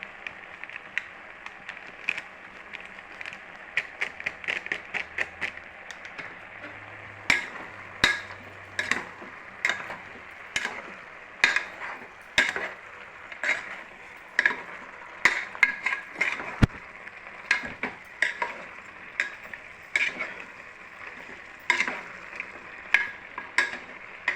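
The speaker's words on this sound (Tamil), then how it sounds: "இது நல்லா வதங்கட்டும்" Chicken with masala powder sautéing in a pan, a continuous hissing sizzle punctuated by a long series of rhythmic spatula scrapes and clicks against the pan, moderately close and without talk.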